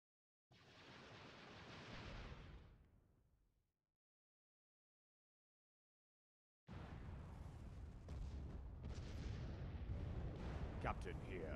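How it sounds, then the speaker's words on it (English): Turbo lasers firing in a Star Wars space battle video game: a loud roaring burst that fades to silence, then a sustained barrage of heavy booming blasts and rumble. "Captain here, firing turbo lasers."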